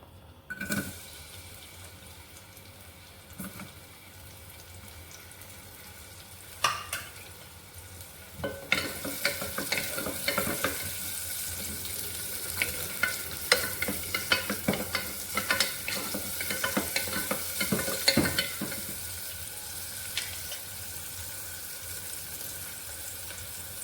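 Onions sauté in a pan for a mutton kofta curry. The first stretch is quiet with a few isolated knocks, then a steady sizzle starts, broken by frequent scraping stir strokes, close and with no speech.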